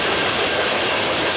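A freight train carrying steel coils and pulled by a single locomotive rumbles past close by, a steady broadband roar of rolling wagons with no voices over it.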